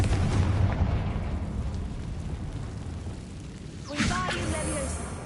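A fiery Confringo blast spell goes off in Hogwarts Legacy on PS5, a sharp burst with crackling debris around the four-second mark over a steady rumbling game soundscape.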